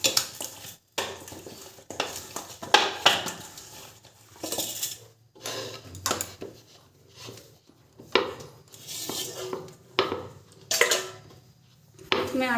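Wheat dough being kneaded for aloo paratha, soft repeated pressing and rubbing sounds in uneven bursts with short pauses between, close and fairly quiet.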